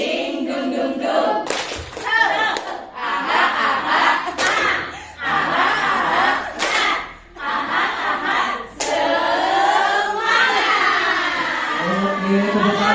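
A group of people clap together in a school training session, with rhythmic chant-like clapping and cheering voices in bursts under loud group talk.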